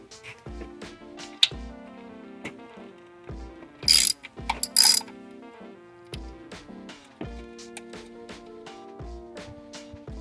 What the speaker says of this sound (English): we're definitely going to remove this 13 millimeter bolt right here.